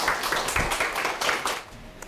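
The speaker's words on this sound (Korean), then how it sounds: "박수로 맞이해 주셨으면 좋겠습니다." Audience applause welcoming a guest lecturer on time management, a short burst of moderately loud clapping from a seated crowd lasting about two seconds.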